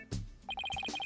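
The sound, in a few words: telephone ringing in Ace Attorney Dual Destinies video game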